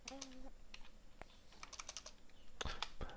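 Keystrokes on a computer keyboard with a sticky, failing T key, clattering in quick irregular bursts and short pauses, close up and moderately loud, with no voice over them.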